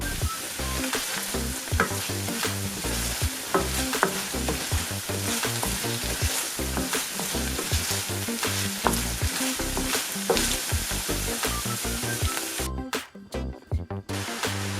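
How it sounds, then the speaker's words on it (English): Beef and onions frying in a pan for Jamaican patties, a steady loud sizzle with repeated stirring scrapes throughout, briefly easing near the end. "Put the beef in the pan with the onions and them"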